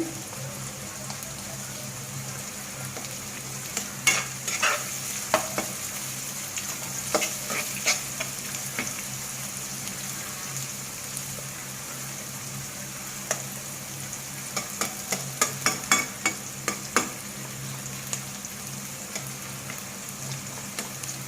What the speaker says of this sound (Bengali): পেঁয়াজটা আমার হালকা ভাজা হবে।